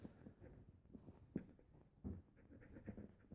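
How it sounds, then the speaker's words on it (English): A distressed dog pants rapidly and whimpers softly during fireworks, a close, quiet and continuous breathing rhythm with small whines, no talk heard. "This is a distressed dog."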